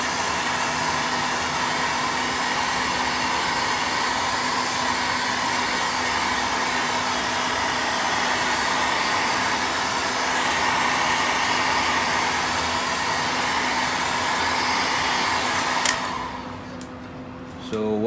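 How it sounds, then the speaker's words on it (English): A heat gun blows steadily over fiberglass bow limbs, a loud, even, close whooshing roar that holds for about sixteen seconds before cutting off abruptly. "And just using the heat gun, I put it over like this,"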